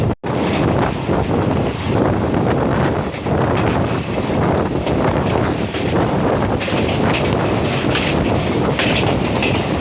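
A train runs on rails between Selu and Satona railway stations on the Parbhani–Jalna line, a loud, continuous rolling rumble with rhythmic clickety-clack and buffeting wind noise at the microphone.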